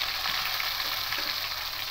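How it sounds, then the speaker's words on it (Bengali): Pointed gourds (potol), about 200 grams, sizzle and fry in hot oil in a pan, a steady dense crackling hiss close by with no voices. "এই পটলগুলোকে একটু হালকা লাল লাল করে ভালো করে ভেজে নেব।"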